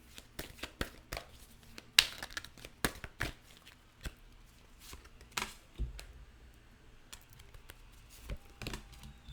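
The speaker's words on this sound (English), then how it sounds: "I will shuffle a little bit more and then we will see what the cards tell." A deck of tarot cards is shuffled by hand, with quick crisp riffles and taps coming in irregular bursts, close and fairly quiet with no voices.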